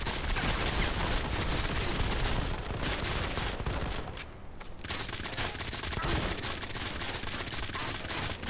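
Dense, continuous automatic gunfire in the mobile shooter Modern Combat 5 during an online match, a loud rattling barrage with only a brief lull midway.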